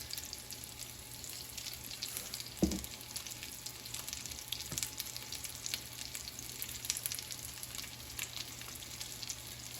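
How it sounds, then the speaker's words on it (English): Breaded chicken tenders sizzle steadily in hot oil in a frying pan, a dense, even crackle throughout with one brief louder pop near the start. "now the pan is heated through, and you hear the oil sizzling"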